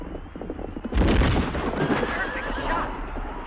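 A single loud gunshot booms in a horse-riding shooting tournament scene from a 1988 film, a sharp blast about a second in that leaves a rumbling tail, with faint voices around it.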